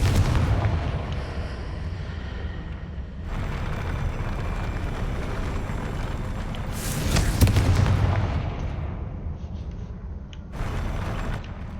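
A Confringo fire spell bursting in Hogwarts Legacy, a loud, continuous rumbling blast with a sharper crack near the middle and another surge toward the end, heavy low booming throughout, no talk.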